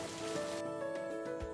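Heavy rain falls as a dense, steady hiss with a faint hum running underneath, unbroken and close throughout, with no voices.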